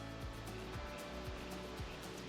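Water running steadily down a freshly dug ditch beside a soft, wet dirt road, a continuous rushing wash with a faint low pulsing underneath, close and unbroken.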